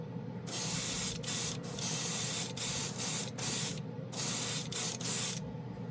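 Airbrush spraying chrome paint in a series of bursts, each a steady hiss lasting about a second with short pauses between, close and fairly loud with no talking.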